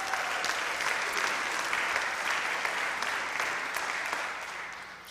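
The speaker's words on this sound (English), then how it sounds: "Thank you for applauding" A meeting audience at the Maine Conference UCC annual gathering claps steadily in a broad, even wash of many hands, holding strong before easing slightly at the close.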